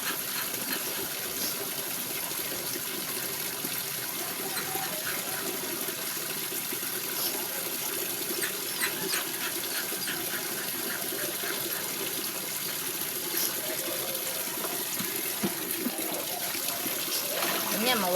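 Water runs steadily from a tap in a home kitchen, a continuous trickling wash that persists for the whole stretch, with faint voices and small clatters in the background.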